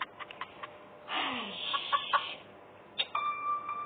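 A chicken clucks in the horror video game Evil Nun 2, giving several short, faint clucks and a longer squawk that stand alone in quiet.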